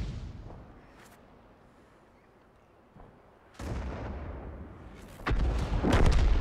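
Heavy artillery guns boom in the World of Tanks video game: a softer shot early, then two loud, rumbling blasts near the end over a low battle hum.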